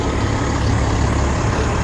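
Heavy city bus rolling past close by on a wide suburban Toronto arterial road, a steady loud low engine rumble and road roar filling the whole stretch with no talk.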